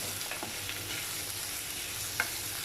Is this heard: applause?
no